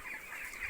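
A flock of young broiler chicks on a poultry farm chirps in a steady, dense chorus of high peeps, close and continuous with no voices.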